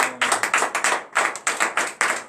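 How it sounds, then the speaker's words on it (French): A church congregation at a morning prayer service in Benin claps in acclamation, a steady run of sharp, fairly close hand claps in quick rhythm with a brief pause midway, heard alone without speech. "Donnez encore l'acclamation à l'Éternel."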